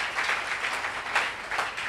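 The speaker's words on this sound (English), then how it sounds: "clap of to the Most High God." A church congregation clapping together in a loud, sustained round of applause, with small swells in intensity and no talk over it.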